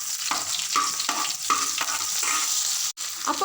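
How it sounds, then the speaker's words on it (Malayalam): Garlic and green chillies fry in a pan, a steady crackling sizzle broken by repeated rhythmic scraping strokes of a stirring spoon, with a brief pause near the end. "ഗാർലിക് ഇട്ട് കൊടുക്കാം അതേപോലെ തന്നെ കുറച്ച് പച്ചമുളകും കൂടി ഇട്ടിട്ട് നന്നായിട്ട് തന്നെ വറുത്തെടുക്കാം"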